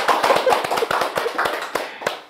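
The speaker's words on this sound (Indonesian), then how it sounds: "Tepuk tangan dulu teman-teman" A small group clapping together at an informal gathering, rapid uneven hand claps close by that thin out and trail off toward the end.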